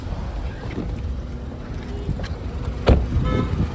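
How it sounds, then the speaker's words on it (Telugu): A 2020/21 Kia Sonet HTK Plus petrol engine idles as a quiet, steady low rumble, heard up close with a brief louder knock near the end and some wind noise. "ఇంజన్ అయితే చాలా సైలెంట్ ఉంది"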